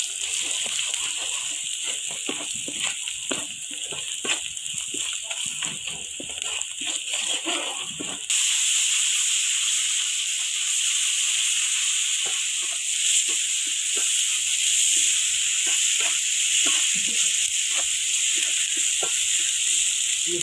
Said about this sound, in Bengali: আড়া চাড়া করে মশলাটা কষিয়ে নিলাম